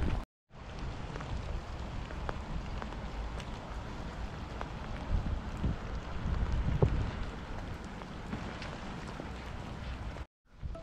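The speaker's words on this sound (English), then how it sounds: "I wish this rain would go away." Steady rain falling outdoors, a continuous hiss with occasional louder patters and some wind rumble, no voices.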